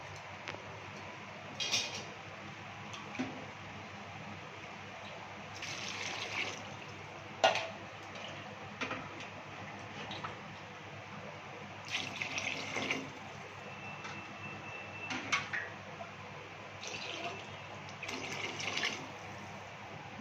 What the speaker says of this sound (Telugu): ఇప్పుడు వాటర్ వేసుకున్నాం